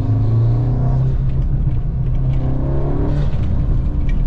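An Audi S3 8Y with an APR outlet pipe and no airbox revs loudly and close, a steady deep engine rumble that swells and eases, with no talking over it.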